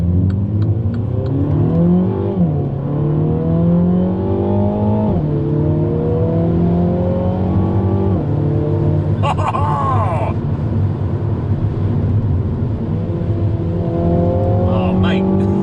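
Mini John Cooper Works Clubman F54 306PS fitted with an Eventuri carbon intake, engine revving repeatedly in rising pulls with loud, continuous induction roar and whir, heard up close from inside the car throughout.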